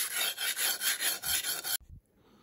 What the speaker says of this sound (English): this Norton coarse crystalline's really making short work